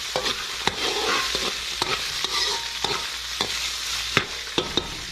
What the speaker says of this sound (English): carrots, the celery. Kind of toss it around like so.